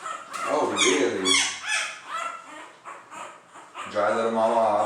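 High-pitched newborn American Bully puppy squeaks and yips repeat over the whole stretch, close by and fairly loud, with people talking around them.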